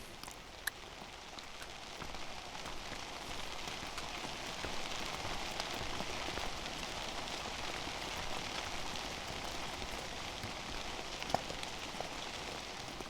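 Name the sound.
rain falling on the Appalachian Trail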